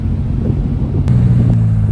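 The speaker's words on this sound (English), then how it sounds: "Love the sound of that turbo." Low, steady turbocharged car engine rumble heard from inside, with a faint high turbo whine appearing partway through.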